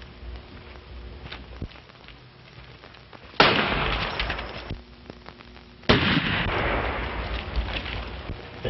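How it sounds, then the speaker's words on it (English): Two loud gunshots in a 1933 western film, each a sudden crack followed by a long noisy echo or decay, several seconds apart over a quiet, slightly hissy background. "The shot came from back of those rocks."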